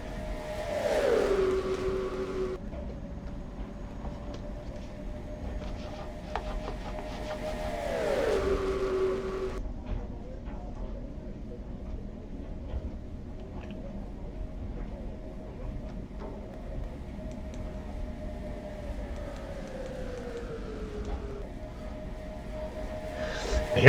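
Stock cars in a racing series swing past in waves, engines droning and pitch falling as the pack sweeps by, then fading before the next group roars through at mid distance.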